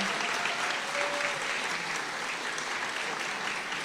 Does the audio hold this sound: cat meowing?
no